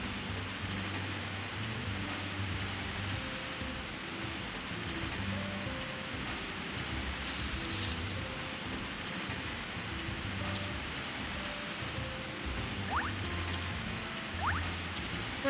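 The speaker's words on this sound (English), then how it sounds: "Oh my gosh, it's raining." Steady rain patters throughout a farming life-sim game scene in Story of Seasons: A Wonderful Life, a soft continuous downpour under light looping music with a couple of brief chime-like tones.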